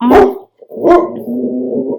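A dog barks twice up close, loud and sharp, the second bark trailing into a drawn-out whine or howl.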